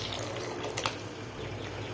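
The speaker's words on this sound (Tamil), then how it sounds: "இது கூடவே புளித்தண்ணி ஊற்றிக்கலாம்" Tamarind water is poured into a pan of bitter gourd tamarind curry on the stove, giving a steady, close, rushing splash of liquid that lasts throughout without speech.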